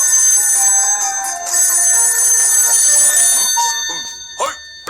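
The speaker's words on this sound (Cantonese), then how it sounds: "然後係大雄電話" A telephone rings in a Cantonese-dubbed Doraemon cartoon, a steady electronic ringing tone that continues throughout at a fairly loud level.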